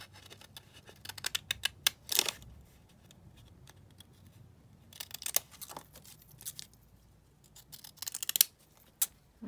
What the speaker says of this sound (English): just using my zigzag scissors